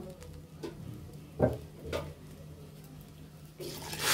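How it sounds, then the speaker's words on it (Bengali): Water poured onto rice and vegetables frying in a pan for ginger bhuna khichuri, a low steady sizzle broken by several sharper hissing bursts as the liquid hits the hot grains. "আমাদের চালগুলো ভাজা ভাজা হয়ে গিয়েছে, এখন আমরা জল দিয়ে দিব।"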